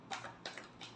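Tarot cards being shuffled in a last shuffle before a reading, three quick soft riffling bursts close by in about a second, faint and with no talk.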